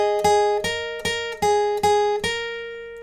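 The pre-chorus riff of a song played on guitar without a capo: six evenly spaced, bright picked notes, each ringing briefly before the next, clear and close with no voice.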